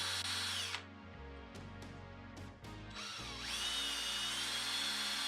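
A power drill bores through aluminum on a Ricky Carmichael CR250R motocross bike restoration, whirring steadily with the pitch dropping under load and a few brief stops before spinning back up, close and loud.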